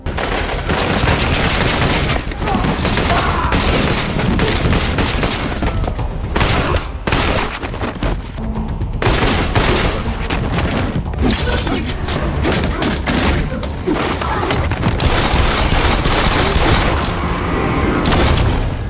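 Gunfire from an action film shootout: dense, loud bursts of rapid shots and booming impacts run almost without a break, with some muffled voices mixed in.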